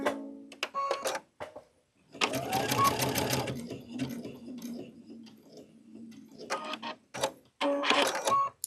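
An embroidery sewing machine runs a quick locking stitch, then a sharp mechanical snip cuts the thread, with short motor whirs and clicks separated by brief pauses.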